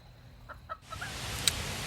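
A few soft clucks from a backyard chicken flock with nine-week-old chicks newly mixed in, faint and a little distant over a steady outdoor hiss, with one sharper peep near the end.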